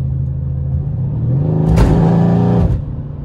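A Mercedes C63 S AMG engine roars as it accelerates, rising into a loud, harmonic-rich howl for about a second before dropping back to a deep idle rumble.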